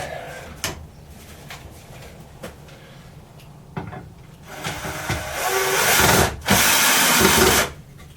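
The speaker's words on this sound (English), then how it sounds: "Let's get a couple more of those screws. I'll put these in." A screw is driven into scrap wood while building a saw stand: a few light wooden knocks and handling sounds, then a louder whirring drive with a grinding bite into the timber that stops abruptly.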